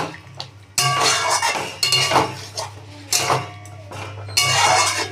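A spoon clatters and scrapes against a metal pot while Sojne Data Aloo Posto curry is stirred, giving several loud bursts of clinking contact with brief quieter gaps between them.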